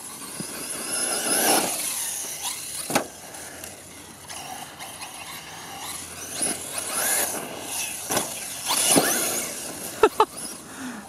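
HobbyKing Berserker RC car running on 6S power with tuned differentials, its electric drivetrain whining and surging in bursts with sharp clattering impacts near the end, a voice speaking intermittently over it.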